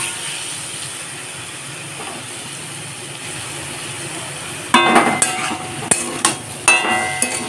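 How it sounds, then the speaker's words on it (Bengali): Potato and pointed gourd curry stirred in a pan, with a steady cooking hiss giving way to several sharp, close scrapes and knocks of a spoon against the pan. "আরো ভালো করে পটল আলুটাকে নাড়াচাড়া করব"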